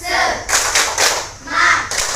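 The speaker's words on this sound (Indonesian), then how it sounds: "Tepuk semangat." Students do a rhythmic spirit clap in a school morning session, bursts of group clapping in short patterned waves, with a few voices chanting along between the claps.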